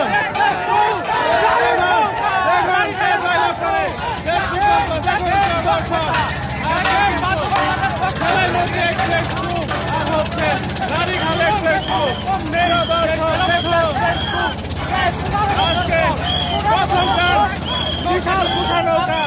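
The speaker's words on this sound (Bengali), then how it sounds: "বিশাল কুঠা নৌকা, বিশাল কুঠা নৌকা চলছে রানীখাল এক্সপ্রেস আর হচ্ছে সেরাইমতি এক্সপ্রেস।" Large kosha boats race along a canal while a crowd cheers and shouts, continuous loud babble and commentary-style talk over splashing paddles and a general roar throughout.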